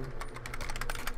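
Rapid keystrokes clatter on a computer keyboard in quick, uneven bursts, close and fairly loud over a low steady hum, with no voices.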